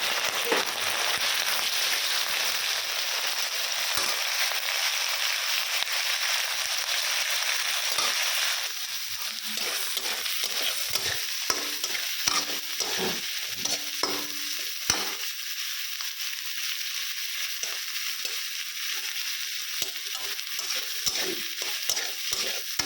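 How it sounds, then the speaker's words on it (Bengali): Prawns sizzling in a pan with onion, garlic, nigella seeds, dried red chillies and green chillies, a steady loud fry with scraping stirs and clicks of a utensil against the pan throughout. "চিংড়ি মাছটা দিয়ে দিই, ভাজা ভাজা হয়ে যায়"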